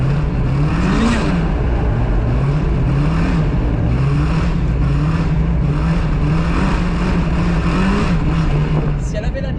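A 750-horsepower turbocharged BMW M2 drifting at the Lohéac circuit, its engine droning loud and close with a wavering pitch that rises and dips as the throttle is worked, while people talk over it.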